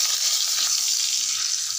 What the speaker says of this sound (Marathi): आपण थोडं जिरं टाक आणि थोडी मोहरी टाकी